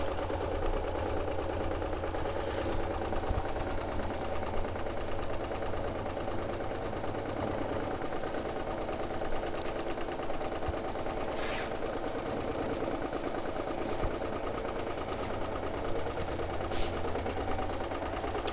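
A sewing machine stitches continuously, giving a quiet, even mechanical whir with faint rapid clicking throughout.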